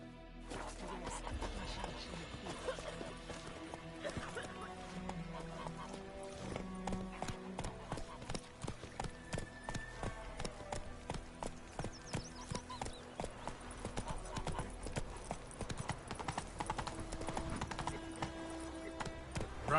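Roach the horse galloping in The Witcher 3, with rapid rhythmic clip-clop hoofbeats running continuously at moderate volume and a faint background bed underneath.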